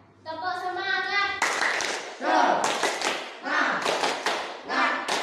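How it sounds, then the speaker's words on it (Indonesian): Pupils in a school lesson perform the Indonesian 'tepuk semangat' clapping chant, bursts of quick rhythmic hand claps alternating with chanted voices, near and fairly loud. "Yuk, kita sama-sama melakukan tepuk semangat agar pembelajaran pada hari ini semangat."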